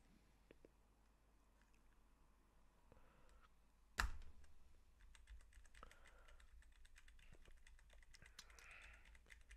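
Keys on a gaming keyboard clatter in quick, quiet clicks, with one sharp thump partway through before the soft tapping continues.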